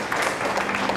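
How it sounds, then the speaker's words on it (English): A brief burst of audience applause at a fashion show for survivors, a short patter of clapping hands lasting about a second, moderately loud with no voices. "That deserves a good clap there."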